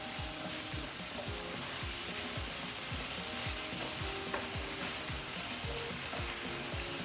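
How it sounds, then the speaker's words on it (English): Thin-sliced beef stir fries in a skillet on high heat, giving a dense, continuous sizzle and crackle with rhythmic scraping strokes as the meat is kept moving. No one speaks. "I'm cooking this on high heat because I'm stir frying it"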